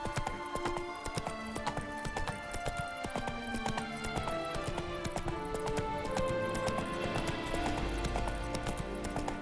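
Horse hooves clip-clop in a steady rhythm as a mount moves through The Witcher 3 game world, the hoofbeats close and fairly loud, with game music and ambient sound layered underneath.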